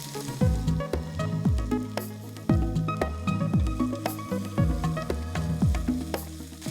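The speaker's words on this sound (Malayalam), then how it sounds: "നല്ലതായിട്ടൊന്ന് വഴറ്റുന്നത് പെട്ടെന്നൊന്ന് വഴന്ന് വരാനായിട്ട് നമ്മളെല്ലാവരും ചെയ്യുന്ന പോലെ ഒരു ഇച്ചിരി ഉപ്പ്." Onions with green chilli, ginger and garlic sauté in a hot pan with a pinch of salt, a steady close sizzle broken by repeated scraping stirs of a spoon against the pan, with no voices.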